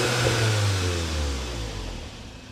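A Volkswagen MK7 GTI engine idling with a deep exhaust rumble that rises slightly in a mild rev, steady and close.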